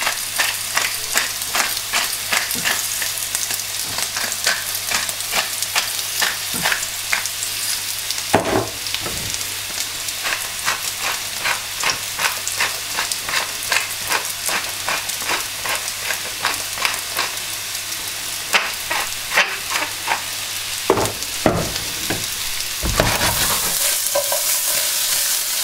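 Sliced potatoes for Bratkartoffeln fry in a small, crowded pan, a steady loud sizzle running throughout with repeated scraping and stirring clicks from a utensil, and no voices.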